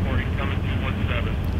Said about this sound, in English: Ooh, helicopter! Look at the helicopter, look at it!